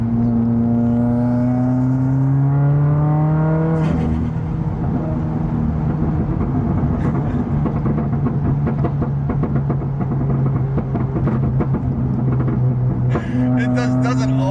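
Subaru WRX engine and aftermarket exhaust humming at a steady low idle-like drone with shifting harmonics, a brief rev change near the start and end, with people talking over it throughout.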